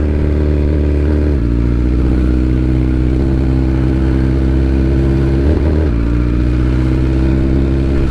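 A 2022 BMW S1000R Sport motorcycle is ridden at idle, its engine giving a loud, steady, close rumble with a deep low-end throb and a brief dip in tone partway through, and no speech.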